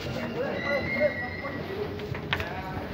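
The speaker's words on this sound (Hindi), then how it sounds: "अभी गाड़ी आ गई, मेट्रो आ गया," A metro train pulls into a station with rolling wheel noise and brief high squeals, fairly close, while people talk over it.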